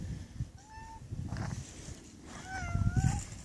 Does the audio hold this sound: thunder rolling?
no